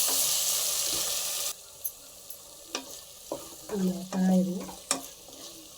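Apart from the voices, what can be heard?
tomatoes frying and being stirred in a pan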